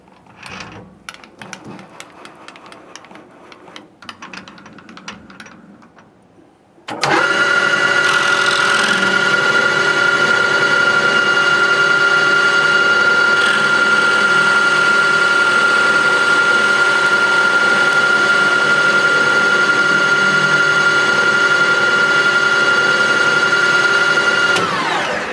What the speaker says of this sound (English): I'm going to go ahead and just take a light pass off the end of this thing.